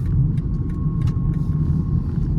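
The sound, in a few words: BMW 330i M Sport driving over red rumble strip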